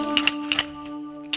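D&D dice shaken in a shaker give a few quick clattering rattles in short bursts, heard alone over a steady low tonal hum.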